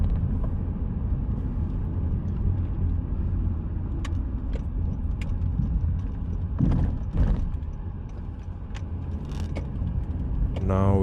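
A car drives along Jalan Hokkien, a city road in Miri, Malaysia, heading toward the main highway; a steady low engine and road rumble runs throughout with a few faint clicks and light rattles.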